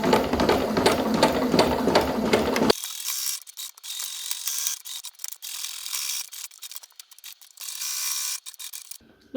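A sewing machine stitches fabric for a patchwork basket, running fast and steady with a loud mechanical whir, then continuing in rapid rattling bursts with brief pauses.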